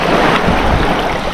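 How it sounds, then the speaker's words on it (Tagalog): Strong waves wash against a boat at sea, a loud, continuous rushing roar of water and surf with wind buffeting close to the microphone, and no voices. "Lakas ng alon, guys."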